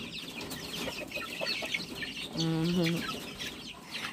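Chickens cluck in a noisy outdoor yard, a steady chatter of clucks with one louder, drawn-out call from a nearby hen in the middle, over background murmur.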